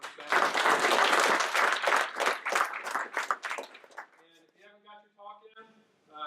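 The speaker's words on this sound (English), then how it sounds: "Round of applause for him" A conference crowd claps for a keynote speaker on Lean UX, a loud burst of applause lasting about four seconds before fading out, followed by quieter voiced sounds in a hushed room.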